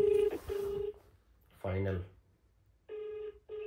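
A mobile phone call being placed, with a short series of loud electronic tone beeps, a pause, a brief spoken word, then more beeps like ringback tones, fairly close.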